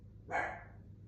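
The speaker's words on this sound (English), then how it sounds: "there's a dog outside that's barking" A single dog bark carries in from outdoors, faint and distant, one short muffled woof over low background hum.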